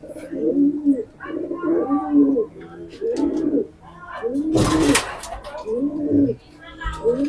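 Slate-coloured pigeons in a fancier's loft in Bulacan coo in repeated low, throaty phrases close by, with a brief rustle of wings midway.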